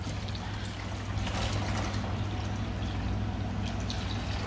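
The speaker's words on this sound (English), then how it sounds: "Gotta put more water for my pups here." Water is poured into a dog's bowl, a steady close trickle and splash that runs unbroken over a low background hum.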